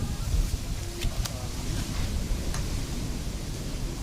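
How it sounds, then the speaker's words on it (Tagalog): Strong wind in Okinawa, Japan roars and buffets the microphone in continuous gusty rushes, loud and close throughout. "Lakas ng hangin."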